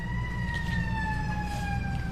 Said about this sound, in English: That's a siren.